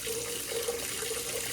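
Cold water runs from a kitchen tap into a pot, a steady close hiss and splash that holds evenly throughout with no voices.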